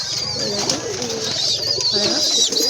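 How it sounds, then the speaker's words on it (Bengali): Several pigeons coo and flutter nearby as they land, with soft repeated calls layered over a busy background of chirping and faint ambient noise. "এই দেখুন এখানে সে পায়রাগুলো নামছে"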